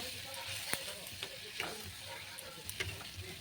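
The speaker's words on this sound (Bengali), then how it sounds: "এবার নাড়াচাড়া দিয়ে দেবো" Rohu fish belly pieces being stirred into their spiced gravy in a pan, a quiet, low simmering sizzle broken by a few soft spoon scrapes and knocks, with no talk.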